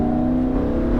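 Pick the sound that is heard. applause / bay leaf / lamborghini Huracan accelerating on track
lamborghini Huracan accelerating on track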